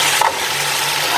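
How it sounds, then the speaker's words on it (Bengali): Cauliflower florets tipped into a hot pan on a home stove give a steady, close, dense sizzle with a brief clatter near the start, no voices. "এই তো এখন আমি সবগুলা ফুলকপি এইভাবে ঢেলে দিব"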